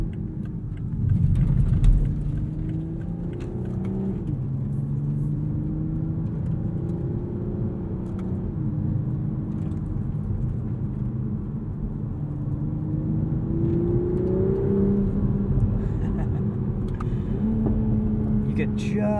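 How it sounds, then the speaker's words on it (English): A 2021 Toyota Supra 3.0 Premium engine drones from inside the cabin during a drive, a steady low hum with rising and falling revs as gears shift and a light turbo spool at low RPM, with someone talking over it. "Just a little bit of boost spool at low RPMs. I think it sounds proper."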